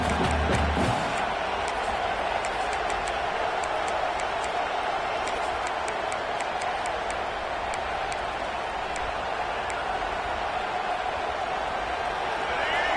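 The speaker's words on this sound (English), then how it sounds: "This crowd trying to make life miserable for this offense." A football stadium crowd keeps up a constant loud roar during a game, a dense unbroken wash of noise with faint scattered clicks.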